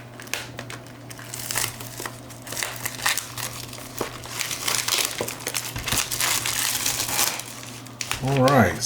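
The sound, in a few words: cutting open and unwrapping a trading card display box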